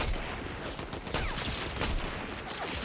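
Rapid gunfire in the Fortnite video game, a dense continuous barrage of overlapping shots at steady loudness with no pause, with faint voices barely present beneath it.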